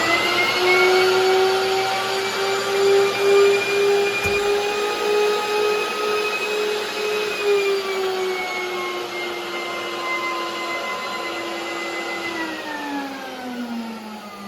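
A vacuum machine runs steadily for the whole stretch in a parts shop making Tri Five parts, a loud continuous motor drone with whining tones that slowly shift in pitch, no talking over it.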